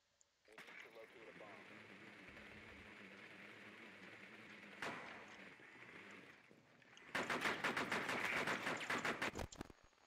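Video game gunfire rings out under steady background noise. A single loud shot lands midway, then a rapid burst of repeated shots closes the stretch, heard faintly at low overall volume.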